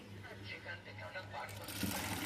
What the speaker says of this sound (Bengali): দেখুন ফাইনালি পাক্কা সেলাই হচ্ছে ব্লাউজে